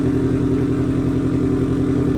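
A Subaru WRX engine fires up and revs, giving a loud, steady mechanical drone with a strong low throbbing pulse close by, running on without a pause and with no talking.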